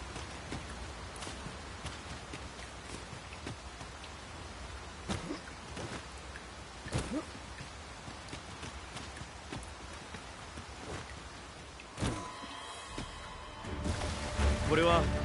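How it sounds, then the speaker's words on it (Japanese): Heavy rain in the video game Dragon's Dogma 2 makes a steady, dense hiss throughout, with occasional clopping hooves and a burst of louder activity near the end. "これはなかなか激しい雨ですね。"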